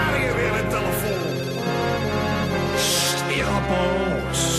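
A telephone rings repeatedly in an electronic ringtone pattern, loud and close, layered over music and background noise.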